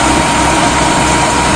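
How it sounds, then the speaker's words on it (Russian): An MTZ tractor engine runs steadily at close range, a loud continuous low rumble with no breaks and no voices. "Этот трактор я уже показывал несколько раз."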